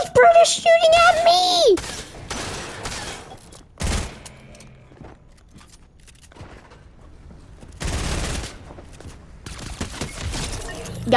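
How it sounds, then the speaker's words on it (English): Gunfire during a Fortnite fight with exotic weapons, heard as a few sharp, loud bursts of shots spaced across the clip with quieter gaps between them, alongside brief game sounds. "why is Brutus shooting at me"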